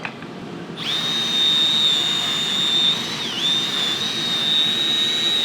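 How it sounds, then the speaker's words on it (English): A wire wheel on a power tool scrubs the cylinders of Toyota Supra rear subframe bushings, a loud steady high whine that starts after a brief moment and runs continuously with slight dips, no talking. "We got the cylinders cleaned up pretty good with a wire wheel."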